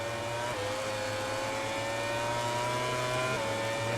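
Motorcycle engine in the MotoGP 18 racing game, holding a loud, steady high-revving whine with small pitch shifts as the rear wheel spins up through the final corner, no voices over it.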